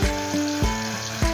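Tofu fries in hot oil in a pan, giving a steady sizzle overlaid with a low repeating pulse about every half second, close and moderately loud with no speech.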